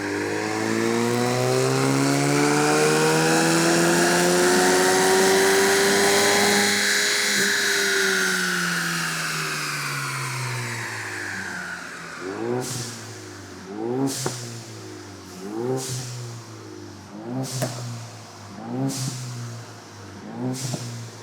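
A Ford Mustang EcoBoost engine on a dynamometer roars through a long, loud rising pull that sweeps up and eases off, followed by a series of sharp repeated revs with quick throttle blips and pops.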